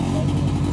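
A Royal Enfield Bullet motorcycle engine runs steadily close by, a dense low thumping rumble with a constant loudness and no talk over it.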